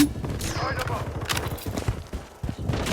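Rapid bursts of gunfire in the shooter game Blood Strike crackle close and loud in quick volleys, with brief pauses, while a player talks over the action.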